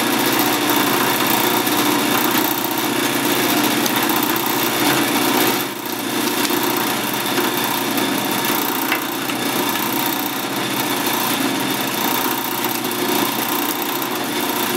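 Steady, loud machine whine of a drill press running continuously, with a brief dip midway, boring a hole at least 1.5 inches deep into plywood at close range.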